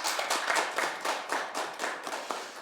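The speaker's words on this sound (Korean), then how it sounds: "다시 한번 박수 한번 쳐주시겠어요?" Steady applause from a lecture audience, many hands clapping densely and evenly throughout, fairly close, with no talking.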